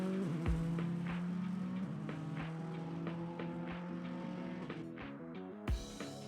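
An aging Subaru WRC rally car on a timed run revs hard, its engine note rising and falling through gear changes with a brief tire squeal and a sharp burst near the end, heard from a short distance.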